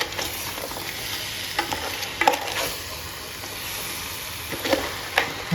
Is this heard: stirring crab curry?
yes